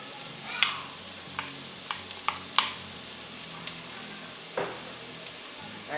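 Diced onions sautéing in olive oil for baked lasagne make a soft continuous sizzle, broken by several light utensil taps and scrapes against the pan at irregular intervals.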